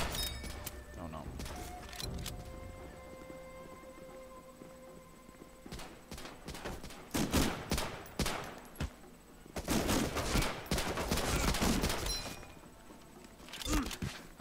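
Bursts of gunfire from an Xbox shooter game, several rapid volleys clustered in the second half, loud against a quieter game background while a person talks over parts of it.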